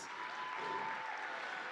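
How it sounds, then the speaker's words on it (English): Steady applause for athletes from a crowd at a sports competition, continuous clapping with a faint tone running underneath, heard from a little distance. "can we give another round of applause for all the athletes?"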